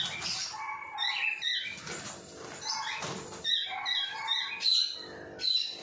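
Pigeon chicks heard close, with repeated high chirps and squeaky calls alongside wing flutters and rustling, in uneven bursts.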